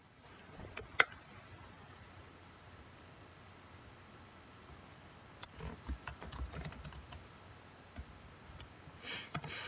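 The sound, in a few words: typing on a computer keyboard to rename a folder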